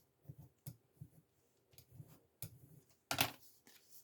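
Scissors cutting double-sided ribbon, a quiet run of short snips and clicks in uneven rhythm, ending with a sharper, louder crisp cut near the end.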